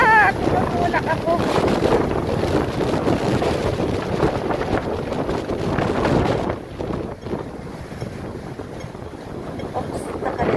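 Strong typhoon wind buffeting a street at a red light, a loud, continuous roaring rush with gusty surges and heavy microphone buffeting throughout.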